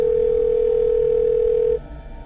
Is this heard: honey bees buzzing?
no